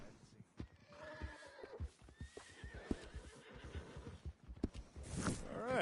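Horse in a video game whinnying and snorting over clip-clopping hooves, close and fairly clear, with character dialogue in the scene.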